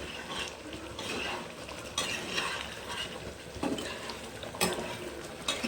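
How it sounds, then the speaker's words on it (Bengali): Mung dal cooked with papaya and sugar is stirred in a pan, making soft scraping and shuffling utensil sounds over a low sizzle, with a few louder clinks, quiet and with no voices. "সেই জন্য আমি অল্প একটু চিনি দিয়ে ভালো করে নাড়াচাড়া করে নেব।"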